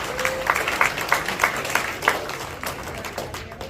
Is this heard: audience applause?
yes